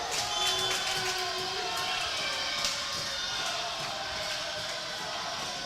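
Home crowd at a Concordia University versus Mount Marty University college volleyball match: a steady roar of cheering and shouting fills the gym, dense and sustained, with occasional sharper claps and squeaks over it.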